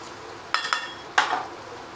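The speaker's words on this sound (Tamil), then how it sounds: "போட்டு நல்லா கிண்டி விட வேண்டியது தான்" A metal spoon knocks and scrapes against a pot while curry leaves and chilies are stirred in oil for mango pickle, giving three sharp clinks over a faint sizzle.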